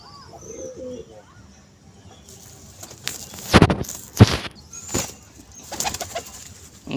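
Pigeons at a home loft coo faintly at first, then flapping and wing-clapping bursts break in close by with a few sharp rustles.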